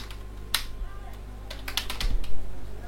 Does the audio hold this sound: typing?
yes